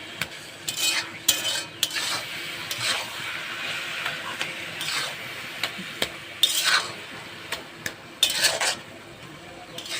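Sechi saag greens being stir-fried in a pan, with a soft sizzle under frequent sharp metallic scrapes and clinks of a utensil against the pan, close by and without speech.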